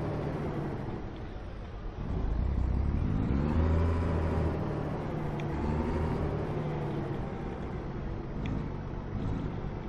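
A tractor-trailer truck engine in the American Truck Simulator video game: a continuous low diesel rumble whose pitch rises and falls as the rig moves while backing, with no speech.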